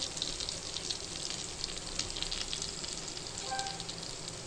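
Cumin and turmeric sizzle in hot oil for a potato curry, a steady crackling fry close by with a faint metallic clink near the end, no talking.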